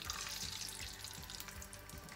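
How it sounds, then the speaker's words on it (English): Soft, steady sizzling and crackling of butter in a hot pan, quiet and continuous with no voices. "So the butter is starting to sizzle a little bit."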